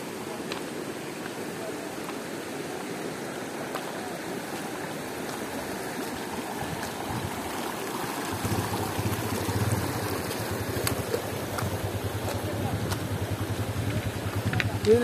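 Clean water pouring down from above onto a spot where people perform ablutions near a mosque in Bateela village, Allai Valley; a steady outdoor rushing wash, thickening and growing louder in the second half.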